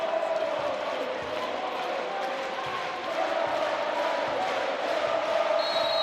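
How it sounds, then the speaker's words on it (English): Packed volleyball arena crowd at a CEV Champions League women's match in Istanbul's VakifBank Sport Arena, a steady loud roar of cheering fans filling the hall throughout, with a play-by-play voice faintly underneath. "Noise here in the VakifBank Sport Arena is just huge."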